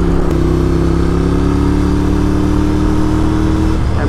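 Scrambler motorcycle fitted with a new exhaust, idling and revving steadily with a strong, loud engine drone and harmonic tone held throughout, ending with a small throttle blip.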